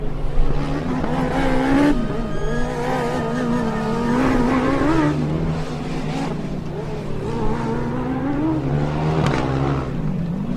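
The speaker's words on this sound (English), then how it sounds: "Oregon refiring their engine." Formula Student race car at the German endurance finals, engine restarting and idling with revs rising and falling, loud and close, with a commentator talking over it.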